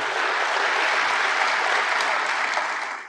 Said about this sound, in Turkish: Milletvekilleri CHP liderinin konuşmasını ayakta alkışlarla karşıladı.